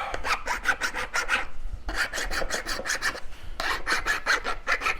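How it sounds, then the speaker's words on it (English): A file rasps to sharpen a copper flintknapping tool, three runs of quick rhythmic strokes about five or six to a run, close and crisp with brief pauses between. "I need to sharpen this, by the way, or at least just a little bit."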